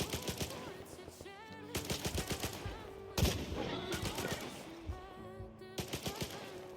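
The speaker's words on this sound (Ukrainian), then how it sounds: "Чувак, ти в землю стріляєш" Gunfire in the video game S.T.A.L.K.E.R. 2 comes in several loud rapid bursts of automatic shots, separated by short pauses, with faint voices underneath.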